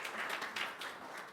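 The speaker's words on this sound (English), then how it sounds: "Let's give Adrian a round of applause." A short burst of audience applause fills a talk on payments, dense overlapping claps heard at a moderate distance, swelling slightly and then easing off.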